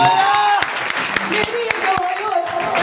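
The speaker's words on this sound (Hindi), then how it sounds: "तालियां बजाएंगे यीशु मसीह के लिए" A congregation claps for Jesus Christ during a Hindi testimony service. Distinct, fairly regular claps ring out under a prominent voice that keeps talking throughout.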